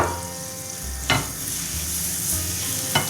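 Oil and butter sizzling steadily in a pan while msemen are being made, a continuous broadband hiss with two sharp clacks of a utensil against the pan, no voices.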